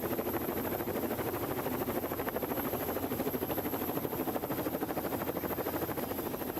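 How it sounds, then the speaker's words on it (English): A helicopter hovers over the start of a Tour of Britain cycling stage, giving a steady, dense rotor chop and engine roar that stays constant throughout, with no voices. "The helicopter is in the air."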